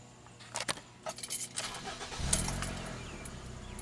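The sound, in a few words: Ford Escape car engine starting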